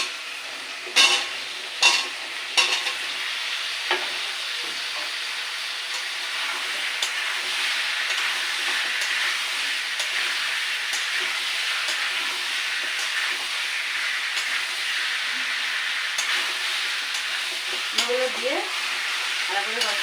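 Pumpkin pieces fry in spice masala, a steady hissing sizzle broken by a few sharp stirring knocks early on, close and continuous throughout.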